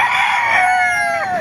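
Roosters crow and chickens cluck in a crowd of fowl at a Baliuag open-air market, with long drawn-out crows overlapping one another at close range over steady background noise.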